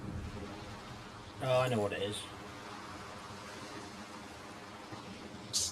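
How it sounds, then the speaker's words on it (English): Steady hiss of radio static as a storm approaches in the survival game DayZ on the Namalsk map, running through the whole clip beneath a short stretch of talk. "radio picking up the storm's coming and it was picking up a background noise for the storm going a bit crazy."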